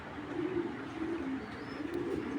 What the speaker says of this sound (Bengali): খুবই সুন্দর কবুতর দুইটা